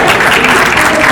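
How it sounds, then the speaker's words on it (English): A brief, loud wash of dense audience applause filling a conference hall, close and continuous with no pauses. "Yes, come on, that's worth applause."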